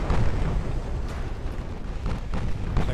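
Secondary guns on a battlecruiser firing in the Ultimate Admiral Dreadnoughts naval game, a loud, continuous barrage of rumbling booms and blasts with repeated sharper reports over a dense low roar.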